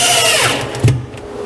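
A power drill drives small galvanized screws into a wooden router table stand, a short whirring burst that slows and stops with a brief thump, close and alone.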